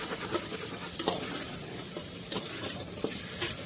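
Mutton stirred with ginger garlic paste in a hot pan: a constant oily sizzle broken by sharp, irregular scrapes and clacks of a spoon against the pan, close by.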